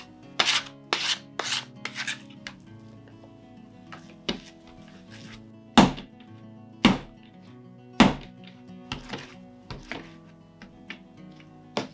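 Whole wheat bread dough being kneaded by hand with a dough card after unsalted butter is worked in, giving irregular sticky slaps and scraping taps on a work surface, close and fairly loud, with no talking.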